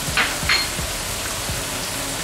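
Steady crackling sizzle of chicken stir-frying in a hot pan for Cambodian cha kroeung, with a few scraping stirs and clinks throughout.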